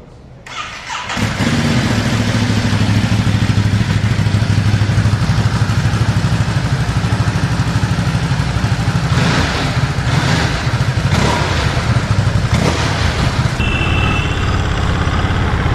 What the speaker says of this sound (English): Let's just crank up this motorcycle.